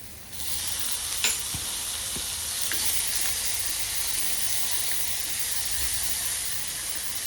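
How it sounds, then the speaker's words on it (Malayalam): Tomatoes sizzle and sauté in a pan with browned onions, a steady bright frying hiss carrying on throughout with occasional soft stirring clicks, close and continuous with no talk. "അത് നന്നായിട്ട് സോഫ്റ്റ് ആവുന്ന വരെ സോട്ട് ചെയ്യുക"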